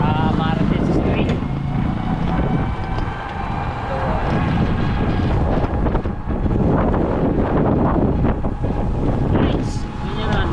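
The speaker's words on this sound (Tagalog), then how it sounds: "Lakas ng hangin." Strong wind roars and buffets the microphone continuously, a heavy rushing noise with people talking underneath.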